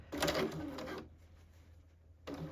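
A sewing machine stitches a dart in a blazer, running steadily for about a second, pausing, then starting again, fairly close and clear.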